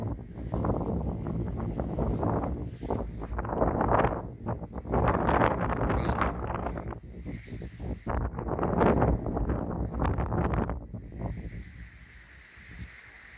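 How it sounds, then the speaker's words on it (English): Gusty wind buffeting the microphone outdoors in a beach forest, loud rushing surges rising and falling in waves, with rain implied but masked by the wind noise. "it is quite windy outside and it's raining"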